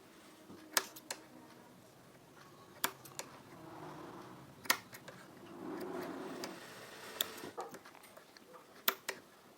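Scissors snipping through stitched kurta fabric during tailoring, a series of sharp, quiet clicks and snips spaced irregularly, with soft rustling of cloth between cuts and no talking.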